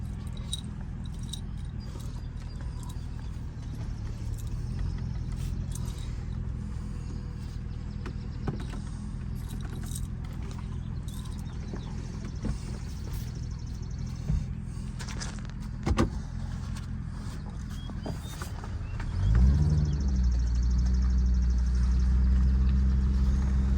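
A 2006 Mercedes SL500 R230 rolling on newly fitted 20-inch wheels makes a steady in-cabin hum of road and engine noise, with a few brief knocks and a louder low surge near the end; no one speaks.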